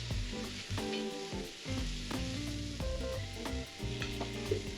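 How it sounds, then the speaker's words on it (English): Tomatoes stirred into sizzling onions and garlic in a pan for a Brazilian feijoada bean stew, a continuous close sizzle with spoon scrapes and stirring knocks throughout and no talking. "Next, we'll add our tomatoes. Give that a stir."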